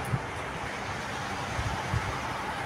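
Steady wind blowing across an outdoor spot, a broad continuous rushing roar with a few low buffeting gusts against the microphone, with no voices.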